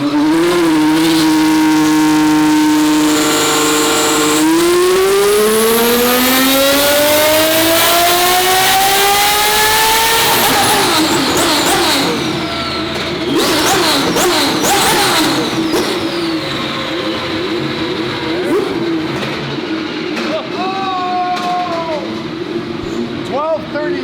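A twin turbo Ferrari F12 V12 roars on a dyno, pitch climbing steadily through a long loud pull, then dropping into rapid crackling throttle blips and pops, with voices faintly underneath.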